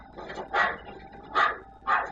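A stray dog on a TV show gives a few short, soft barks or yips in a loose rhythm, moderately close, with no talking over them.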